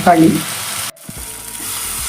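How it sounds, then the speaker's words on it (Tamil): Tomato, onion and dried red chillies sautéing in a pan, a loud close sizzle with a stirring clatter at first, then a sudden cut to a softer steady frying hiss. "நாலு வரமிளகாய் ஆட் பண்ணிக்கலாம். ஒரு 2 நிமிஷம் எல்லாம் நல்லா வதங்கட்டும்."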